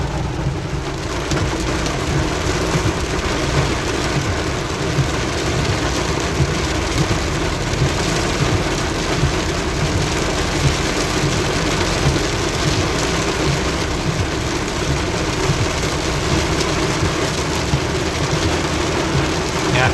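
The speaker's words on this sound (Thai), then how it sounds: "ฝนตกแรงเหมือนกันครับ" Heavy rain pours down steadily on an elevated roadway in Bangkapi, Bangkok, a dense, loud roar of drops on surfaces that continues unbroken throughout, with no talking.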